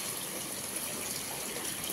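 Water poured into a pot of dry chicken curry being cooked at a family gathering, a steady close gushing splash that runs evenly throughout without pause.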